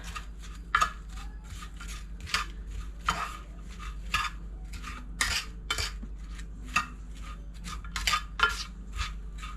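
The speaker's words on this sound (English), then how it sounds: "All right, let's give this a stir." Spoon clinks and scrapes against a pot while rhubarb is stirred together with cornstarch, sugar and salt, giving an irregular series of sharp, close metallic knocks with no talking.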